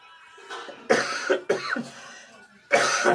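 A series of harsh coughs in bursts, close and fairly loud, with short pauses between fits and a final heavy cough at the end.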